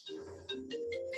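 A mobile phone rings in a meeting room, giving a brief melodic ringtone of a few quick tonal notes at moderate volume.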